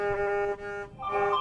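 A phone notification chime rings out alone, a short tonal jingle of a couple of bright notes, close and clear.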